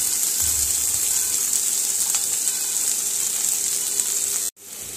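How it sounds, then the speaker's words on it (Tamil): Shallots sauté in a hot pan while liver thokku is being prepared, giving off a steady, close sizzle and hiss that holds evenly for several seconds before cutting off abruptly near the end. "நல்ல வெங்காயம் வதங்கிடுச்சு."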